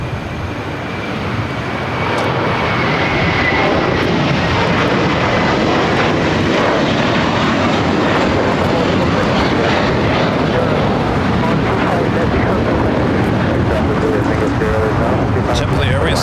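A JetBlue Airbus A321 takes off at LAX bound for Fort Lauderdale, a loud, broad jet engine roar that builds within the first two seconds and holds steady, with people talking over it.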